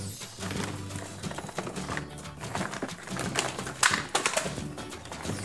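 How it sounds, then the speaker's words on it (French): A cardboard box holding a Cars 3 Florida 500 speedway toy set is opened and unpacked, with a dense run of crinkling, scraping and tapping handling noises that is fairly close and steady and rises to a few sharper knocks near the end. "il est temps d'ouvrir le carton et d'en déballer le contenu"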